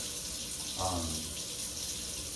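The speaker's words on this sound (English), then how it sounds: "you just turn it on there for cold and turn it up for hot" Water from a kitchen faucet gushes steadily as the tap is turned on, a broad hiss that holds for the whole clip with a brief fuller swell early on.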